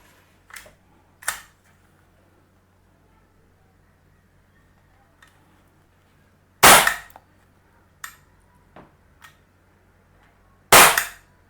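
A Camstar Star RX CO2 pistol fires several sharp, loud cracks spaced irregularly over a quiet background, with softer mechanical clicks in between and no talking.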